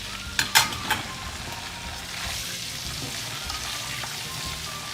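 Potatoes frying in a pan for aloo palak, a steady soft sizzle following a few sharp clatters at the start as they go in, fairly quiet and close.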